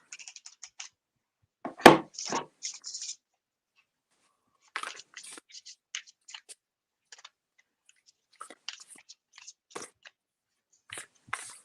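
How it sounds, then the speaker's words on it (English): Tarot cards are shuffled by hand in sporadic bursts of soft riffling and tapping, with short pauses between clusters and one sharper knock near the start, fairly close and quiet, with no talking. "So let's give these a wee shuffle."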